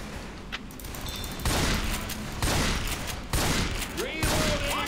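Pistol shots in Left 4 Dead 2, with four or five sharp, loud reports spaced about a second apart over continuous game noise and no one speaking.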